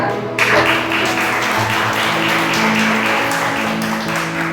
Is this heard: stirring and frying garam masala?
no